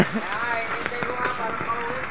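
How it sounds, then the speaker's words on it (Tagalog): Steady dense patter of rain fills the space, constant and close, with no clear voices over it. "Lakas ang ulan."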